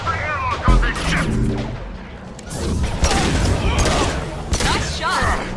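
Gunfire in Mass Effect 2 aboard a prison ship during a lockdown, with sharp repeated shots and booms cracking over loud, dense combat noise, plus a voice speaking amid the shooting.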